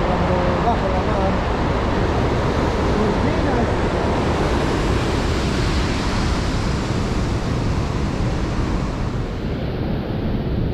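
Ocean waves breaking against coastal rocks at a fishing spot on the shore, a steady loud wash of surf and spray with wind noise throughout.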